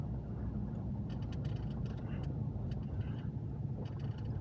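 A car driving the back roads of Lago Vista on a summer afternoon, with a steady, close, low rumble of road and engine noise throughout.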